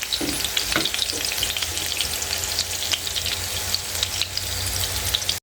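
Longganisa sausage frying in a pan for a home breakfast, a loud, steady sizzle and crackle with a few clinks of stirring near the start, continuous to the end.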